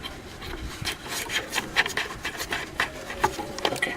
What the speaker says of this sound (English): So we have to unscrew the magic eye from here.